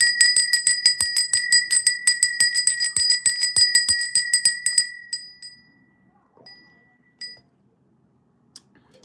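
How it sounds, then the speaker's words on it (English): A small bell rung rapidly, a bright metallic ringing repeated in quick strokes for about five seconds, then stopping and leaving a few faint tinkles and soft clicks. "Let's go ahead and ring the bell."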